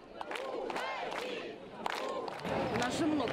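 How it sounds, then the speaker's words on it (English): A crowd of protesters in central Minsk at night, shouting and chanting voices rising in waves, fairly close and lively. "And more crowds gathered in central Minsk, staying into the night."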